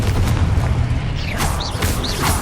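Confringo explosive spell in Hogwarts Legacy, a heavy low rumbling blast followed by whooshing magical swirls and crackling combat effects, dense and loud without speech.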